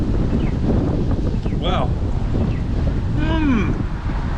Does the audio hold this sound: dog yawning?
no